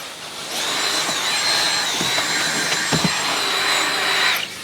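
A vacuum cleaner whines loudly at close range while detailing a car, its high motor pitch wavering as it moves, with a few knocks and bumps.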